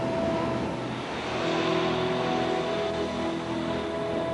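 A car drives across the Sahara desert, its steady engine drone holding a constant low hum with a faint tonal whine, continuous and moderately distant throughout.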